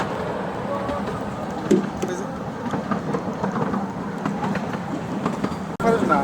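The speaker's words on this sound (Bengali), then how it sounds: "এই যে ট্রেনের সাউন্ডটা যা ভালো লাগে।" Miniature railway train at Ruislip Lido rolling along with a continuous rattling rumble and occasional clacks, heard close, with people talking over it.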